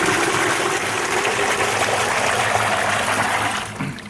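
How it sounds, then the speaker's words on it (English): Dirty water gushes and drains from an opened valve on an aquaponic tank, a steady, loud rush of liquid that holds for several seconds and then eases off near the end. "when I open this valve up, I'm going to get dirty water"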